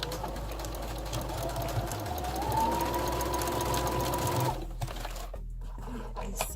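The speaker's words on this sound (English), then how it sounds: "you're going to sew this down on the side" A sewing machine stitches down the side seam of a tube dress, a steady mechanical hum at moderate loudness lasting several seconds before the motor stops and the room goes quieter.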